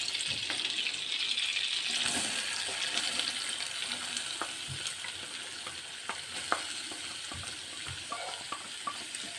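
Onions frying in butter give a dense, steady hiss that stays at nearly even loudness throughout, with scattered soft pops and a few light utensil taps, heard up close and without any talking.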